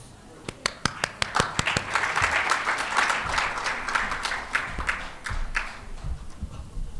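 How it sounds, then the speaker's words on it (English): Audience applause at a medical informatics symposium in Korea: a few sharp individual claps swell into sustained clapping from a seated crowd, holding steady for several seconds before thinning out toward the end. "Let's give him a big round of applause."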